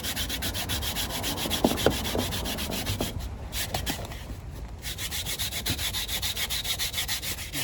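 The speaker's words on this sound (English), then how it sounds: "Start scrubbing away." Scrubbing a surface with a cloth or sponge and all-purpose cleaner, a steady rhythmic rubbing that runs close and continuous, with a few brief knocks partway through and no talking.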